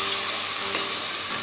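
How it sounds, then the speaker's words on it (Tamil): Ground onion paste fries in a pan over a low flame while being stirred, a loud, steady, close sizzle with a faint scrape partway through, alone without voices. "தீ கம்மி தீயில வச்சு இதை கலக்கிக்கோங்க"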